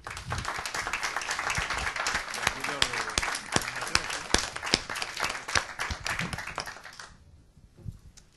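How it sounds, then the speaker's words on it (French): An audience applauds the guests of a round-table discussion on agile team management, dense clapping from many hands that continues steadily, then cuts off abruptly near the end. "je voulais remercier tous mes invités que vous pouvez applaudir"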